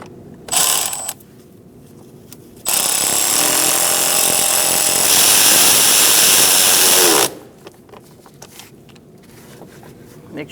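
A power tool tightens the hose onto the air filter housing of a 2004-2012 Chevrolet Colorado 3.7L, with a short burst followed by a loud, sustained mechanical whir of about four and a half seconds that then stops, leaving quieter handling noises.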